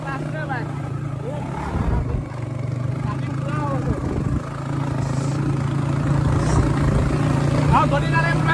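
A motorcycle engine runs on an off-road hill climb, a steady mid-pitched drone with throttle changes, heard close up under a person talking most of the way through.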